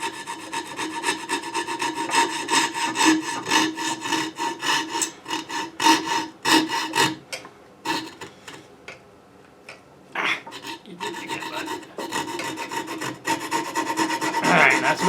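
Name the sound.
hand sawing wood for a pinewood derby car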